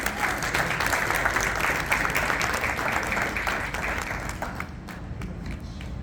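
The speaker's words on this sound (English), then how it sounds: "A round of applause for Father Jude." An outreach gathering applauds Father Jude with loud, sustained clapping from many hands, dense and steady before thinning slightly toward the close.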